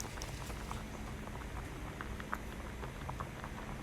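Liquid boiling in a pot while cooking a spicy catfish stir-fry, a soft continuous bubbling patter with small pops, fairly quiet and steady.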